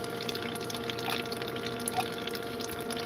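Water running steadily on a lapidary carving setup used for fire agate, a constant low wash with faint drips and light tool noise, no talking.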